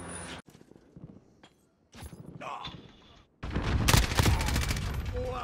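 Gunfire in the video game Call of Duty Modern Warfare, hardcore multiplayer: bursts of shots with thuds, starting sparse and turning into a loud, dense volley near the end, with a voice talking over parts.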